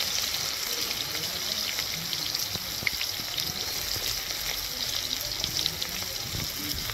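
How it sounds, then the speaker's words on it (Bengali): Thinly sliced onions, two large ones, go into hot oil for an egg and tomato curry, giving a steady broad sizzle that holds at an even level throughout with no talking. "পেঁয়াজটা দিয়ে দিব তেলের মধ্যে।"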